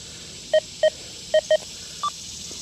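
Four crisp, evenly spaced beeping target tones from an XP Deus 2 metal detector over a buried US half dime, followed by a fifth, higher-pitched beep, all sounding alone against faint background hiss.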